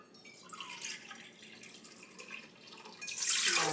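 Warm water trickles and splashes softly into a container for bread dough, growing louder toward the end as the pour picks up.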